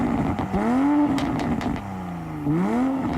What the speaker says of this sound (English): focus on the idling. It's only about 1 second worth of audio before he hits the acceleration on that.